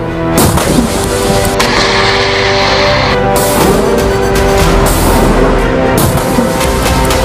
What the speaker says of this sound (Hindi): हिजबुल्लाह एक के बाद एक कई मिसाइल फायर करता है।